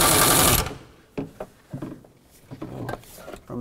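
An impact wrench with a socket on a catalytic converter bolt of a 2013-2019 Ford Escape fires one loud, rattling burst lasting about half a second, followed by a few sharp metallic clinks and knocks as the tool and parts shift.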